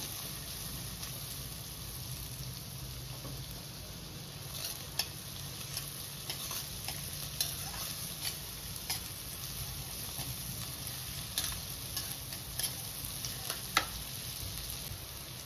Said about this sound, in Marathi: आपण आता कांदा चांगला भाजून घ्यायचा आहे आपल्याला